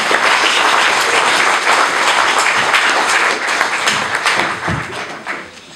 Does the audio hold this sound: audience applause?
yes